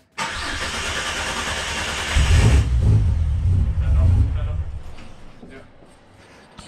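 A car's engine cranks and catches after a fuel system upgrade, then revs heavily in neutral with a deep rumble before settling back toward idle; a voice is heard nearby.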